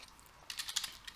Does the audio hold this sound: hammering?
no